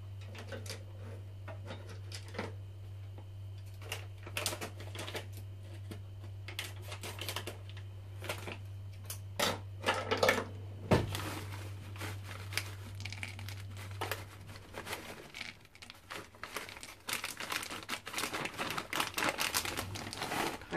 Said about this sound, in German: dann schnippel ich mal noch kurz die Tüte auf